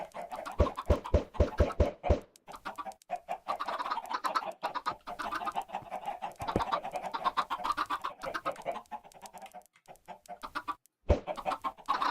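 A flock of chickens clucking and squawking loudly and continuously, with a burst of sharp rhythmic calls at the start and occasional louder cries throughout.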